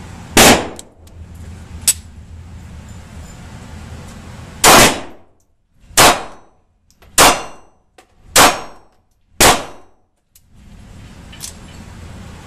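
Gunshots from a Kahr P380 pistol firing PMC ammunition: six sharp, loud reports spaced a second or two apart, each with a brief ringing tail, and no talking.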